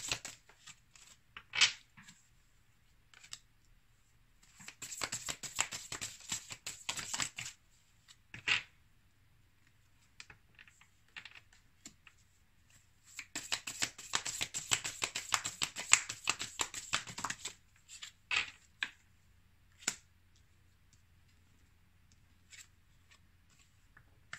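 Tarot cards shuffled in two long riffling bursts separated by quieter handling, with a few single taps and card placements, close and clear in a quiet room.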